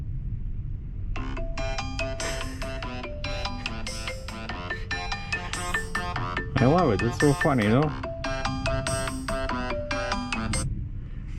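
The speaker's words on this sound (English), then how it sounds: "I found a cool ringtone, sounds and haptics ringtone. It's called Playtime." A bright, bouncy phone ringtone called Playtime repeats over and over in short electronic phrases, moderately loud, while a person talks over parts of it.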